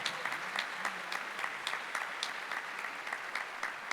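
Congregation at a church service applauding together, a steady patter of many hands with sharp claps repeating throughout, moderately distant and continuous.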